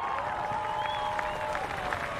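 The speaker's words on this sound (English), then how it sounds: "And a big round of applause from the crowd here." A steady wash of applause from the grandstand crowd at Indy 500 qualifying after a crash, heard at a distance with engine or PA tones faintly underneath.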